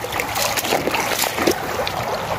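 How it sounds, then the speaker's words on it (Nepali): Rain-fed Karamje stream in Udaypur, Chaudandi municipality, flowing at the start of the monsoon, a steady broadband rush of water with small splashy trickles, close and continuous throughout, no voices. "खोलामा पानी बग्न थालो"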